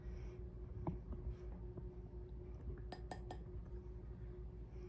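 A fork clinks against a bowl while stirring pastry flour and salted water for hardtack, with scattered light taps early on and a brighter cluster of ringing clinks near the end over a steady low hum.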